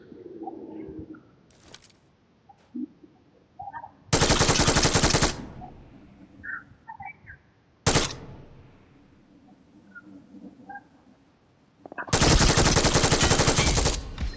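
Gunfire in the BGMI mobile shooter: two long, loud bursts of rapid automatic fire and a single sharp shot between them, with quieter in-game ambience, bird coos and faint noises in the gaps.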